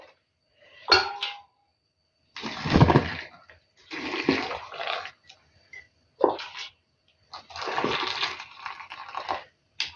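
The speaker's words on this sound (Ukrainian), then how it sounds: "Я буду заливати знову вже чистою водою окропом." Boiling water poured into glass jars of cucumbers for pickling in several separate bursts, with light clinks of glass between pours, heard up close.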